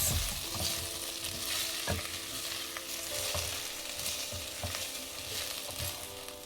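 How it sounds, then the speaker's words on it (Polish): Food sizzles steadily in a pot over medium heat while a utensil scrapes and stirs in a regular rhythm. "Smażymy to na średnim ogniu, cały czas mieszając."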